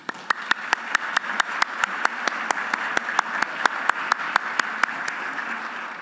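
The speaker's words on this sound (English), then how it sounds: "another round of applause, please" Audience applause after a teacher-of-the-year awards program, a dense steady patter of many hands clapping throughout, with a few sharp, distinct individual claps standing out at a roughly regular rhythm, fairly close and moderately loud.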